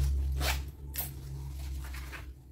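A zipper edge is handled and slid against fabric while sewing a wide-opening pouch, giving short close rasping bursts over a low steady hum.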